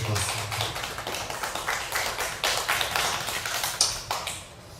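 Audience applause for a departing secretary general at a testimony event, many hands clapping in a dense close patter that swells briefly and then fades toward the end.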